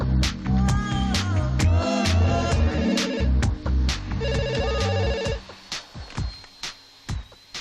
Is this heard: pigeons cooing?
no